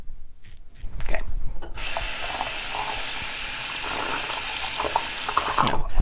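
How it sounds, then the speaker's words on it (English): A Gillette Super Speed safety razor rinsed under a running tap during a wet shave, a steady close rush of water hitting the basin that starts after a second and runs almost to the end. "I like to rinse it pretty often"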